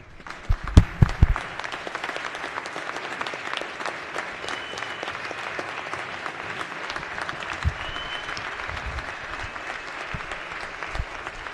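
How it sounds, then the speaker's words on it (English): A crowd in the Maryland House of Delegates chamber gives a warm, steady round of applause, with dense clapping that runs the whole time and a few sharp knocks near the start. "Please give them a warm house round of applause."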